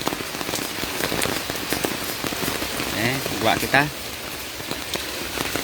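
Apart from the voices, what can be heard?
early morning rain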